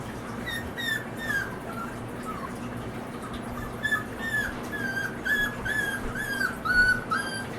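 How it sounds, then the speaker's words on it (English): A puppy whines and whimpers in short, high, wavering cries before a vaccination injection, repeated on and off against a low steady background hum. "this puppy's already whining before I've even stuck the needle in"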